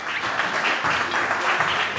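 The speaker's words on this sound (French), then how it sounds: "On l'applaudit" Audience applause at the official opening of a local crafts fair in Lillebonne, a steady wash of many hands clapping close and loud, sustained throughout with no voices.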